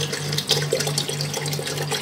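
Tap water runs steadily into an electric kettle being filled for tea or coffee, a close, even pouring rush with no talk over it.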